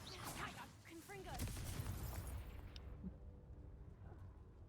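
A Confringo fire spell explodes in Hogwarts Legacy, a loud, dense burst of crackling blasts and rumbling impacts that fades after a few seconds into quieter game ambience.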